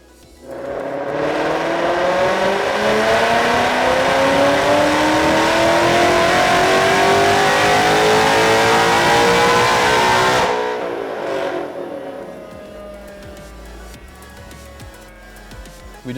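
Supercharged 2012 Ford Mustang GT with a VMP Gen2R supercharger and 79mm pulley revving hard on a dyno, a loud sustained climbing wail with supercharger whine for about ten seconds, then cutting off abruptly to a quieter spin-down.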